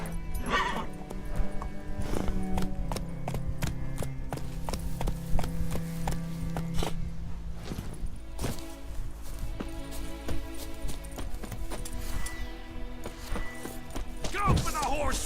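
Horse hooves clip-clopping at a run in The Witcher 3, steady rhythmic thuds over game music and effects, with a character's voice speaking over them and an occasional whinny.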